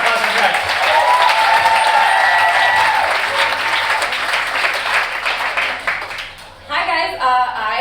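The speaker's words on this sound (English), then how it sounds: "Come on, big round of applause for Jack." A comedy club audience gives a loud, sustained round of applause and cheering for comedian Jack; the clapping thins out near the end as a voice starts speaking.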